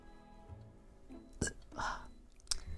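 A small, brief human burp in a quiet room, a single short throaty gulp with faint breathy sounds and soft mouth noises around it.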